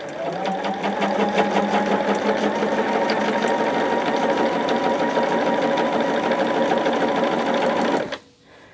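Domestic sewing machine stitching cotton fabric for a Tree of Life quilt block, a steady loud whirring run that continues without pause for about eight seconds before stopping abruptly.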